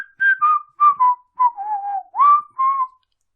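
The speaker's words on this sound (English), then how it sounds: "my whistle is too quiet." Someone whistling a short tune up close, about nine clear notes in a gently falling melody over three seconds, alone in silence and fairly soft.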